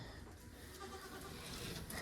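Goats on a farm give a faint, distant bleat that sits low in steady background noise, with no voices over it.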